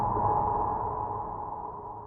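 A large, room-sized reverb on a Native Instruments Maschine+ groovebox, set with heavy diffusion, modulation and a little pre-delay, gives a smooth, sustained wash of tone that slowly fades.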